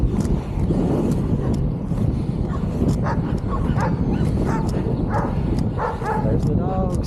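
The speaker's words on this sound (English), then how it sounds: "There's the dogs." Several dogs bark and yip at a distance, short sharp calls scattered over steady wind noise and the rolling rumble of inline skates on pavement, with someone talking over them.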